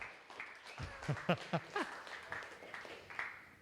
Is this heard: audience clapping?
yes